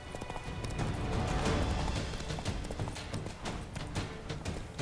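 A horse gallops in The Witcher 3, with steady clip-clop hoofbeats running under game ambience at moderate loudness throughout.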